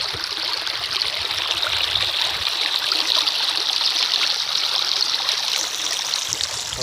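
Rainwater rushes along a village stream after heavy monsoon rain, a steady, close, continuous gurgling flow with no pauses and no voices.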